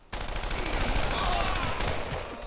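Sustained machine gun fire in a Brothers in Arms World War II shooter, a continuous loud rattling burst of rapid shots close by, running nearly the whole stretch without pause.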